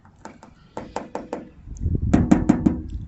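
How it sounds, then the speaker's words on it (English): Knocking on the metal door of a 1975 Cadillac Fleetwood during bodywork, a series of sharp close taps in uneven groups, with a louder cluster of four quick knocks near the end. "And this is spread thin, so you're just hearing the metal underneath."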